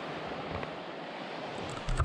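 Sea waves wash onto the shore in a steady broadband wash, with wind noise on the microphone and a louder gust or surge at the very end.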